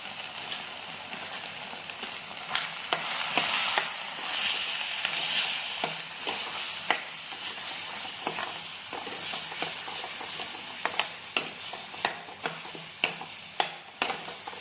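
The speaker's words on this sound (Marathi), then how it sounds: "तेल सुटेपर्यंत आपल्याला परतून घ्यायचे मसाले सगळे" Spices for misal pav, including homemade black masala and misal masala, sizzle steadily in hot oil in a pan, with sharp crackles and the scrape of stirring cutting through the continuous frying hiss, no talk.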